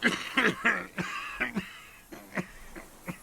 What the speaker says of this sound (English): His hand shakes and he breaks into a coughing fit.